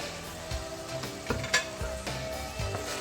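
Spoon stirring white beef keema with garam masala and green coriander in a hot pan, soft scrapes and a low sizzle with a few light clinks at an irregular pace, close by.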